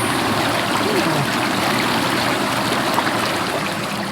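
Water jets of an inflatable hot tub at 104 degrees, a continuous close, loud bubbling and rushing churn that stays steady throughout.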